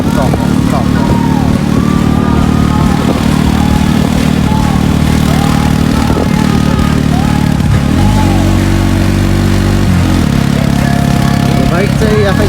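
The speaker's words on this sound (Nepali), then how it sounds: "बाइकको पिकअप दिन सकेको छैन" Motorcycle engine labouring uphill on a rough Mustang mountain road on the way from Pokhara to Lomanthang, a steady loud drone with shifting engine tones throughout, alone without talk.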